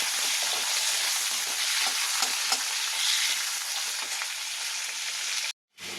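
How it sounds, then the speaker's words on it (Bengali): Diced potatoes and carrots fry in hot oil tempered with cumin seeds, a loud steady sizzle broken by scraping stirs, ending with a brief drop to silence. "আলু গাজরটা ভাজা ভাজা হয়ে গেলে মশলাটা দেবো"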